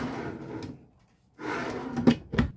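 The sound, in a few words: pantry drawer opening or closing in a travel trailer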